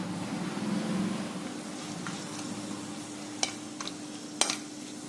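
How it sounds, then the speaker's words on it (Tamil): Cinnamon, cloves, cardamom and stone flower dropped into hot oil for channa masala, giving a faint steady sizzle with a few sharp clinks of a utensil against the pan near the end. "இப்போ நம்ம எடுத்து வச்சுக்கிற பட்டை, கிராம்பு, ஏலக்காய், கல்பாசி இதெல்லாம் போட்டுக்கலாம்"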